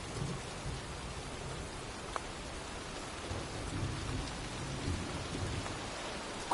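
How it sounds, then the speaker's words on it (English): Rainstorm with rolling thunder in the video game Heavy Rain, a steady wash of rain on surfaces with low, distant rumbles underneath and a few faint drips. "looks like a storm's coming."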